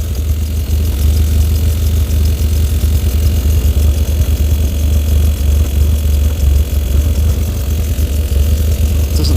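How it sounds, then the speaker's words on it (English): A Skoda 120 16V engine running steadily as its fuel pump runs dry, a loud, close, unbroken low rumble and hum with no change in rhythm and no voices. "I can hear the fuel pump running dry now because it's going to stop soon"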